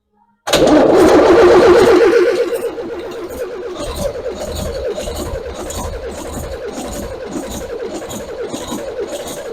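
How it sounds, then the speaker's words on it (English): An old bus engine cranks and fires after a moment of silence, roaring loudly for a couple of seconds before settling into a steady, rumbling idle that runs to the end. "Right, fire it up."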